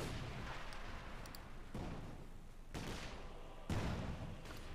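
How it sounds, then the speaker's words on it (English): Six-pounder anti-tank gun firing in Company of Heroes 2 amid a busy battlefield, with several sharp booms at roughly one-second intervals over a constant din of distant gunfire. "Six-pounder gun misses"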